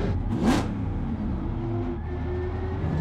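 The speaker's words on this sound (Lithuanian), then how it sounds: "kažkas negerai burbuliuoja mašiną" A race car with an M130 engine, running with a fault that makes it burble at high revs, roaring as it revs, with a brief rising sweep early on, then a steady mid-pitched engine drone.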